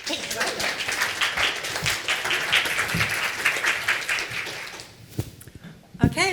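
An audience at a professional talk on sustainability claps for several seconds, a dense patter of many hands that thins and fades, with a couple of louder isolated claps at the close.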